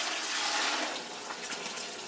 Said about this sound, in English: Now I'm going to take my water and pour it back in.